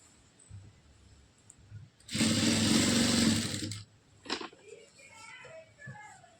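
A sewing machine runs in one loud, steady burst of rapid stitching for nearly two seconds along a folded blouse border, then stops, leaving a few faint clicks and quiet room noise.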